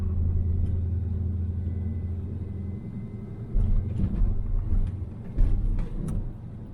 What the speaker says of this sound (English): Still driving through the neighborhood.